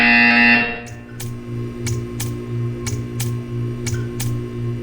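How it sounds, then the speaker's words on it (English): A test-chamber buzzer in Portal 2 sounds as a loud sustained tone that cuts off, followed by a rhythmic series of sharp repeated clicks over a low pulsing electronic hum. "You will hear a buzzer."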